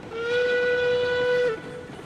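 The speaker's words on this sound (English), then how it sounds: "give an absolute pointless whistle at the station just for fun" A steam locomotive whistle sounds at a station in the railway game RailRoads Online, one loud sustained tone held for about a second and a half before cutting off, with train rumble continuing underneath.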